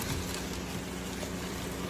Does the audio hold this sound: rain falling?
yes